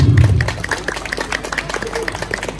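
Crowd applause at a Balinese temple gathering outside Pura Penataran Agung Pasek Gel-Gel, a steady patter of many hands clapping, moderately loud, with a voice briefly audible at the start.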